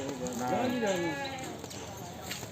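Several goat bleats rise and fall in quick succession over a busy, noisy crowd background at a goat market in Harike Kalan, Punjab, close and fairly loud.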